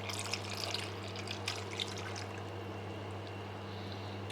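Ale being poured into a slow cooker for a recipe, a steady soft liquid trickle and splash close up against a low background hum, with no talking.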